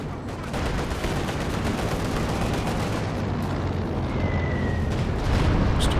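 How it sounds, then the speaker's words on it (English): Stuka dive-bomb explosions in Company of Heroes 2, heard as a dense, continuous roar of blasts and rumbling battle noise that swells slightly toward the end, with no break or quiet moment. "Dive bomb"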